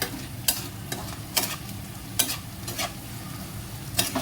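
Chicken 65 fries in oil in a pan while being stirred, a constant close sizzle broken by sharp scraping strokes of the spoon roughly every half second to second.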